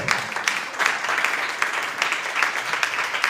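Congregation applauding during a church sermon, a continuous dense wash of clapping from many hands, moderately loud and steady throughout.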